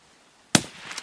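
A single sharp rifle shot rings out in Escape from Tarkov, a loud abrupt crack followed by a short rolling echo tail over quiet rainy background.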